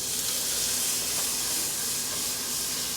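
Unsalted butter sizzles loudly and continuously in a hot cast iron pan, a dense, even hiss with no pauses or voices.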